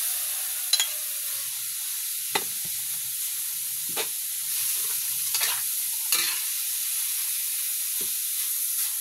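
Food sautéing in a pan while Christmas dinner is prepared, a quiet steady sizzle broken by several brief spatula scrapes and clicks spaced a second or two apart.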